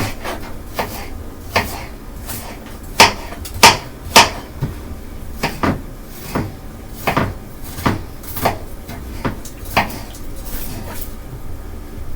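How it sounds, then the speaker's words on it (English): Knife dicing half of a large onion on a board, a series of sharp chopping taps spaced irregularly, some clustered and louder, close by with no talk. "I'm going to dice half of it because it's a large onion"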